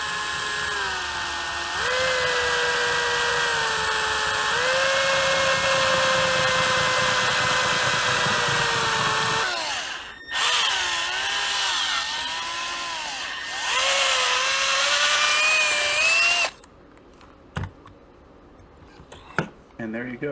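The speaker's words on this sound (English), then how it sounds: "Now here we drilled a hole in the penny." A power drill bores a hole through a 1981-or-older copper penny: a loud, whining motor hum that wavers in pitch as it bites, pausing briefly mid-way before resuming and then cutting off, followed by scattered small clicks.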